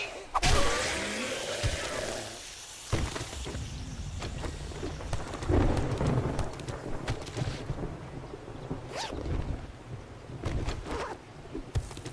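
Thunder rumbles and booms through steady rain in the survival video game 7 Days to Die, with several loud cracks and rolling low thunder over a continuous rain hiss, mostly alone with little speech.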